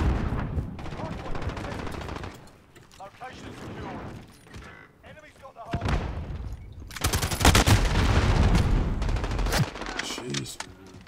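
Loud bursts of automatic gunfire from a Modern Warfare Warzone team deathmatch rattle in several volleys with brief pauses between them, close and punchy, with a player talking in places.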